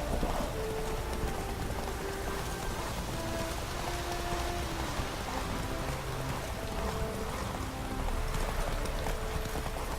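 Horse hooves galloping in The Witcher 3, a fast continuous clip-clop rhythm at a steady loud level, mixed with game sounds and faint tonal music throughout.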